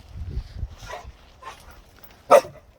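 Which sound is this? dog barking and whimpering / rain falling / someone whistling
dog barking and whimpering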